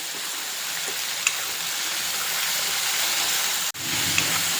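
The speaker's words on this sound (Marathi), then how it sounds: "तिलासुद्धा तेलात छान अशी परतून घ्यायची." Tomato, green chili, ginger and garlic paste fries in hot oil for a Marathi-style matar masala curry, giving a steady, even sizzling hiss throughout with one brief dip near the end and no talking.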